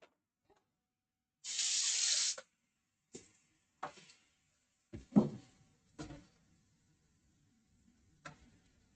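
A kitchen tap runs briefly for about a second while food is rinsed before baking, followed by scattered light clicks and knocks in a quiet room.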